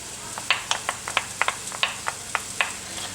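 A spoon scrapes and taps against a pan while green chili chicken filling with garlic is stirred, a dozen short knocks and scrapes in an irregular rhythm over a faint background hiss.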